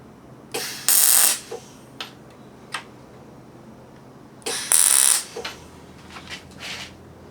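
A welder tacks a small steel tab onto a Jeep XJ A-pillar bracket for a custom snorkel: two short, loud crackling bursts of about half a second each, separated by quiet shop pauses with a few faint clicks and knocks.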